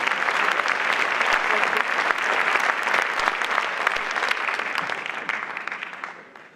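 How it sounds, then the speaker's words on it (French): Audience applause at a film festival closing ceremony, loud and sustained dense clapping from a large crowd that gradually thins and fades out near the end. "Vous pouvez évidemment les applaudir."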